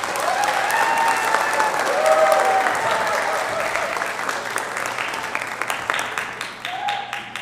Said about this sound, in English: How about a big round of applause for our symphonic band?